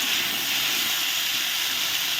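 Cauliflower pieces fry in hot oil with salt and turmeric, giving a loud, steady, close sizzling hiss that holds without a break.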